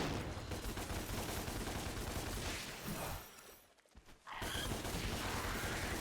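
Rapid gunfire from shooting enemies in Devil May Cry, a dense loud stream of shots and impacts that drops away briefly near the middle before resuming just as intensely.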